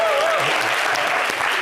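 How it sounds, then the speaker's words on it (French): Audience applause in a TV variety-show studio, a short burst of dense clapping with a voice speaking over it. "Merci de l'applaudir."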